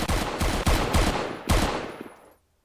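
Rapid gunfire from shooting enemies in the video game Zero Hour: several sharp, loud bursts of shots in quick succession, fading into a trailing echo and silence at the end.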